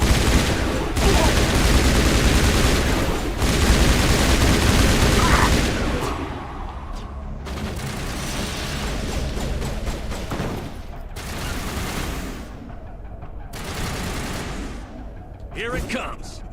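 Sniper rifle and other gunfire in the Mass Effect video game, heavy sustained bursts of shots and booms for the first several seconds, then scattered intermittent shots with voices talking in between.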